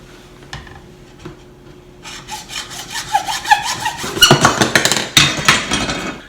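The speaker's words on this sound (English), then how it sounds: "Cut with a hacksaw." A hacksaw cuts through 2-inch schedule 40 PVC drain pipe with rasping back-and-forth strokes that start soft and grow louder and faster, close by.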